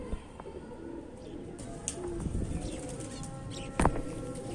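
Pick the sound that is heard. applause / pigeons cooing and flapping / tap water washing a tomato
pigeons cooing and flapping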